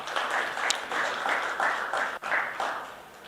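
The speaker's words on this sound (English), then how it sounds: "Big round of applause." Audience applause at a business event with a company team introduction, steady broadband clapping from a crowd lasting the whole short stretch with slight swells, no talk over it.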